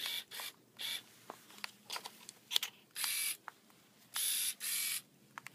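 DSLR camera shutter firing repeatedly, with several long exposures where the shutter stays open for about half a second before closing with a click.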